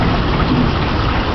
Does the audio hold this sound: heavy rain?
yes